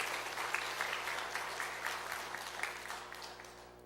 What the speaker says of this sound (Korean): 우리 다시 한번 박수로 영광 올려드립시다.